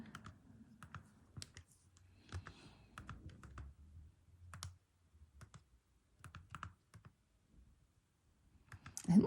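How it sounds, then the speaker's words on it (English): Keys on a calculator pressed one after another in quick, uneven bursts of light clicks, close and fairly quiet, with short pauses between runs and no talking. "that's what I'm going to type into my calculator very carefully"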